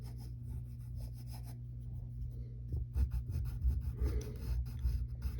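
Pencil or pen strokes drawing a sword handle on paper for a Samurai Jack sketch, soft rubbing scratches that grow busier and louder in the second half over a low steady hum.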